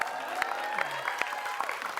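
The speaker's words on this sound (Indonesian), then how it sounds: "Tepuk tangan dulu dong" An indoor studio audience claps through a live talk show, producing steady, dense clapping with a few sharper peaks. A voice and some tonal sound run faintly underneath.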